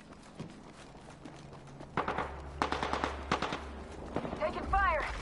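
Bursts of automatic gunfire from a PS4 shooter game, sharp repeated cracks in clusters alongside footsteps and game voice callouts, with a rising whine near the end.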